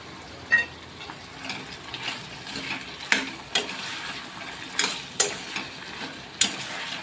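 Ginger garlic paste fries with potatoes in a pan, a close steady sizzle broken by repeated sharp clinks and scrapes of a spoon stirring against the metal.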